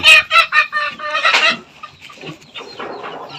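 Chickens cluck and squawk up close in a coop in a short burst, a few birds calling over each other, then the sound settles into softer, scattered clucks.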